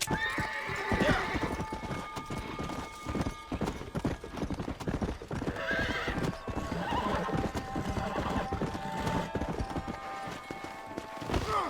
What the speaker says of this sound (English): A horse bucked me off or something.